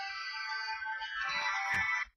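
A mobile phone rings with a sustained electronic ringtone for about two seconds, fairly clear and close, then cuts off abruptly.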